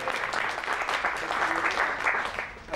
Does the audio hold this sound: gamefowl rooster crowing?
no